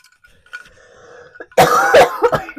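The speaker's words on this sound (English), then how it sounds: "I'm sorry, viewers, this cough," A single person coughing: a faint voice-like murmur first, then a loud, harsh burst of several rough coughs close to the microphone, trailing off into smaller throat sounds.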